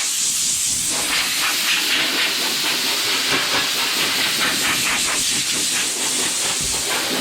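Compressed air hisses steadily from a blow gun as sanding dust is blown off a block-sanded car body panel, a loud continuous rush with no break and no voices.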